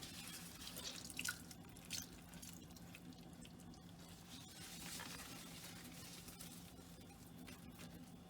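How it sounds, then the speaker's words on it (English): Water drips and trickles from freshly washed rose petals being squeezed out by hand, a soft, close, irregular patter with a couple of brief louder splashes early on, with no voices. "I'm gonna squeeze out the petals."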